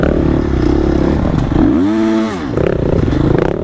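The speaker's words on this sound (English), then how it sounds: "I am revving the bike up saying, get out of the way." Enduro motorcycle engine revs loudly and close during a race, a harsh continuous buzz that rises and falls in pitch in one sharp throttle blip midway, over rough clattering terrain.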